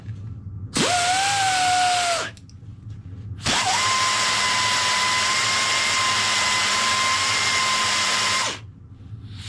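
A power tool rounds off the edges of fabricated parts on an adventure bike build, in two loud, close bursts: a short whine of about a second and a half, then a longer steady run of around five seconds.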